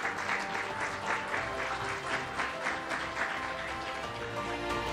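Audience at an architecture and BIM presentation applauding with continuous clapping that stays even and full for several seconds, heard without talk.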